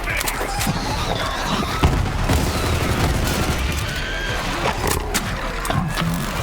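Gunfire in the shooter game Borderlands 3: a dense, continuous barrage of overlapping shots and thuds, loud and close throughout, with game voices shouting over it.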